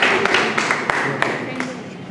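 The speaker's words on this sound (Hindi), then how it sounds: "इनके लिए भी ज़रा एक ज़ोरदार तालियां" Sparse, uneven hand claps from a small audience at a hospital ceremony honouring staff for their Corona work, a few sharp claps scattered over a couple of seconds with some voices underneath.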